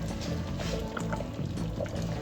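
Cornstarch and water slurry pours into a pot of beef stew, a steady, close liquid stream with soft splashing and bubbling throughout, no voices.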